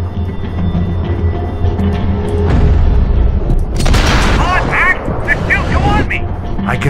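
Gunfire and heavy booms from the video game Max Payne 3, loud bursts and rapid shots clustered in the second half, with excited talking over the shooting.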